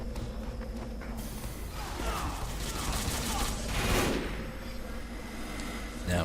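In Team Fortress 2, the Heavy fires his minigun in a dense, continuous roar with other gunfire and battle noise mixed in, loud throughout and swelling toward the middle, with talk underneath.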